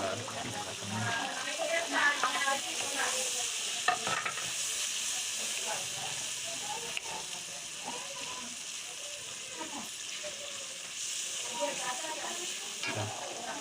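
Fried potatoes tipped into sizzling masala in a karahi, giving a steady, close hiss and crackle of frying with stirring scrapes throughout, and a voice speaking over it now and then.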